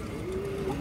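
A female pigeon gives a single soft, drawn-out coo, close and clear, heard alone.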